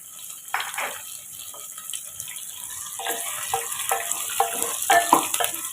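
Radish sautés in oil with salt in a pan, a soft background sizzle broken by repeated scraping stirs that come quicker and louder in the second half.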